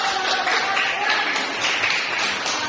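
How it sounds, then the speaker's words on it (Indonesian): A classroom audience applauds after a student's economics presentation, a dense, continuous hiss of many hands clapping at once, fairly loud and steady throughout. "Tepuk tangan dulu Bang."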